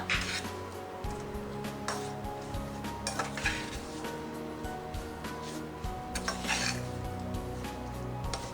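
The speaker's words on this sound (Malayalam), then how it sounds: "കുരുമുളക് പൊടി. ഇട്ട് നന്നായിട്ട് മിക്സ് ചെയ്യുക." A spoon stirs beef cutlet filling with pepper powder in a pan: soft scraping strokes and occasional clinks of metal on the pan over a faint sizzle, fairly quiet and recurring every second or so.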